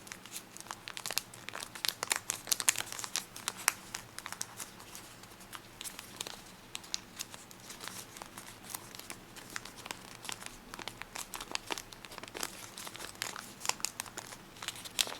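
Paper being creased and folded for an origami spinning top, giving steady crinkling and crumpling with sharp rustles throughout, close up and moderately loud, with no talking.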